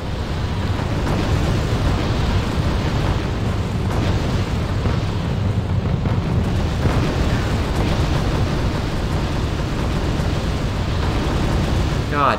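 Artillery fire and explosions in the real-time strategy game R.U.S.E. form a dense, continuous wall of rumbling blasts and bursts that never lets up, loud and close throughout.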